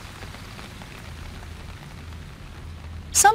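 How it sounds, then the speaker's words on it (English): Heavy rain falls in a steady, even hiss of drops pattering on surfaces, unbroken throughout, until a short bright chime cuts in at the very end. "The rain is hard and heavy again."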